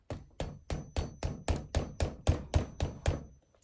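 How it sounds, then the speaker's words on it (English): A worn old hammer taps a metal pin in a wooden watchband, eleven sharp, evenly spaced strikes close up, each with a brief ringing decay, no voices. "I'm going to hammer this pin with my trusty and crusty hammer."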